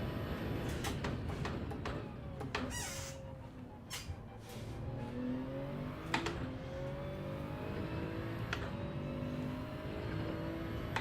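Race car engine from Gran Turismo 7 on a hard-tyre run at Fuji or the Nürburgring, a steady loud drone with rising and falling revs and gear changes, continuous and close throughout.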